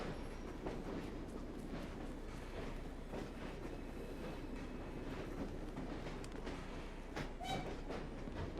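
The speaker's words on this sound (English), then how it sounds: "I'm outrunning a train here." Train rolling past in Assassin's Creed Syndicate, set in Victorian London, a steady low rumble with rhythmic clacking of wheels on rails, fairly faint and continuous, no talking.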